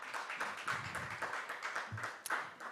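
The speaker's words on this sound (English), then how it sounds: "so clap for yourself" A training-event audience claps for itself, a loose, moderately quiet patter of hands that carries on steadily with a few soft taps and low murmurs underneath.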